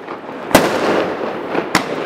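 Two sharp Chinese New Year fireworks bursts about a second apart, loud and close, set off on a boardwalk outside an apartment, over a steady crackling rumble of more fireworks going off in the background.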